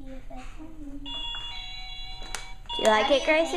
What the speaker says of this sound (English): That's a doorbell for your room.